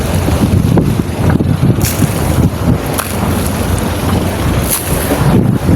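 A large boat out at sea off Cebu, near a fishing payaw, with a steady, loud roar of wind buffeting the microphone and rushing water underneath, continuous throughout with no talking.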